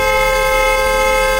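A loud, sustained car horn blares steadily at close range for the whole moment, with no voices.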